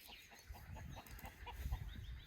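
Hens in a backyard flock near a bioclimatic citrus greenhouse cluck in short, uneven bursts, heard faintly at a moderate distance over quiet outdoor background.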